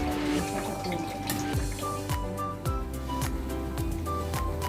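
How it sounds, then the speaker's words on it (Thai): A pot of soup with winter melon heats toward a boil, with a close, steady bubbling and dripping liquid sound. There is no talking. "ขั้นตอนนี้ก็รอให้มันเดือด"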